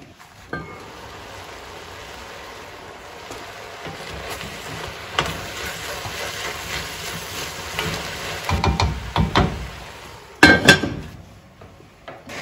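Vegetables for pumpkin soup sauté in a pan with a steady low sizzle, joined by occasional stirring and clinks of utensil against the pan, growing louder with a sharp clatter near the end.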